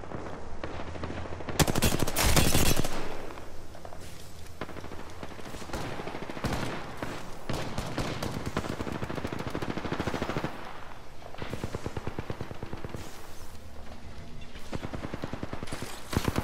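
Sustained automatic gunfire from an Apex Legends match, dense rapid bursts of shots that run almost continuously and loud, with a sharper heavy blast near the start.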